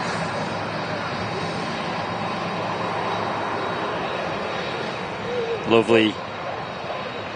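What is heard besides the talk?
aircraft at Manchester Airport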